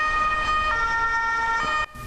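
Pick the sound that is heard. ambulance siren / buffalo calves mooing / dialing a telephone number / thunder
ambulance siren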